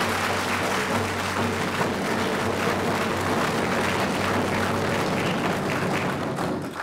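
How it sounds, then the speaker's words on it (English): Audience applause at a Coast Salish Day gathering, a continuous loud wash of clapping that holds steady throughout, with a low hum running underneath. "One more big round of applause for Terry and that announcement."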